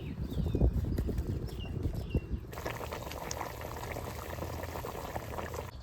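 Mustard hilsa fish curry boils in a pan on the stove, giving close, continuous bubbling and popping that thickens into a denser simmer partway through.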